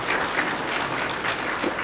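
An audience at an official education launch ceremony in Burundi applauds, a steady, even wash of clapping throughout the short stretch.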